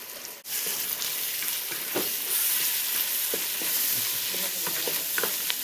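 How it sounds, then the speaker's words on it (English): Vegetables stir-frying in a hot pan for stuffed peppers, with a steady, loud sizzle and occasional scraping and stirring clatter throughout, no voices. "as I'm stir frying this"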